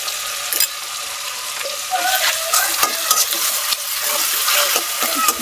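Onion paste and cumin paste frying in a pan for a fish curry produce a loud, close, continuous sizzle, with spatula scrapes and stirs breaking through at intervals.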